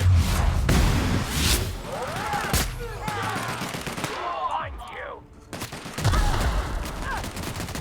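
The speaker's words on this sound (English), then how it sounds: "It's good shooting, everybody." Gunfire in The Outer Worlds: Spacer's Choice Edition rattles in dense, overlapping bursts of loud shots and automatic fire, with a brief lull before the shooting resumes close by.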